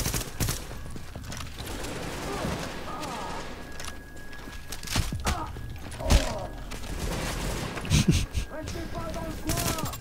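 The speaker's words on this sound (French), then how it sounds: "à partir du moment où tu tires, ça fait 3 balles" Three-round burst fire in The Division: scattered sharp shots and thuds spaced through the clip, mid-distance and moderately loud, mixed with game sound effects and people talking.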